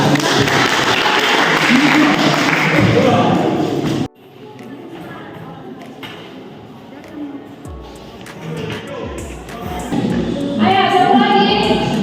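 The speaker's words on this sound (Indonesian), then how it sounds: "Oke, beri tepuk tangan kepada kelompok 2." A classroom of students applauds a presenting group, dense clapping and shuffling for about four seconds that stops sharply, followed by quieter murmurs and movement, with clapping swelling again near the end.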